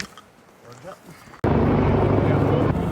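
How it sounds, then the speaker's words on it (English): A rescue helicopter arrives over remote New Zealand backcountry, its rotor roar bursting in loud and close after a quieter stretch with some faint voices. "Right, so the helicopters come in."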